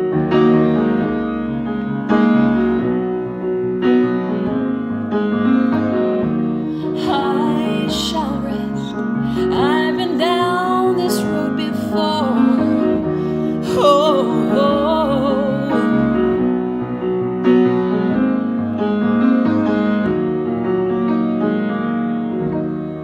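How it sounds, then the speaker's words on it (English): A black Steinway grand piano plays a flowing solo melody over sustained chords, close and full-toned, with rich ringing harmonics and no talking throughout. "tonight's piano du jour on the menu is a magnificent Steinway"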